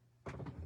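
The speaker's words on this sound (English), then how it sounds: "my heat tool just fell down" A crafting heat tool falling onto a surface, making a short, dull thunk with a couple of quick bumps right after it, close and fairly quiet.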